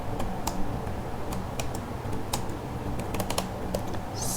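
Code being typed on a computer keyboard, an irregular run of crisp close key clicks with brief pauses between bursts over a quiet background.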